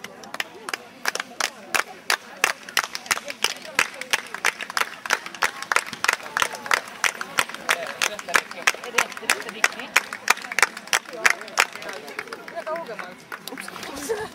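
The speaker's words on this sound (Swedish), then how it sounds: "Vi kunde applådera" Sharp, regularly spaced claps repeat through the whole stretch at an outdoor dog show for Nova Scotia duck tolling retrievers, a steady rhythmic clapping with voices talking underneath.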